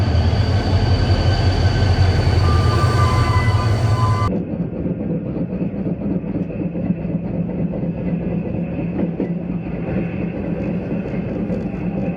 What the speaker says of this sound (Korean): 그럼 저는 이제 기차 타보러 가도록 하겠습니다.